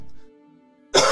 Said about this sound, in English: I got a cough I can't seem to get out.